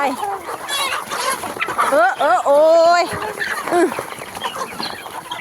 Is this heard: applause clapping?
no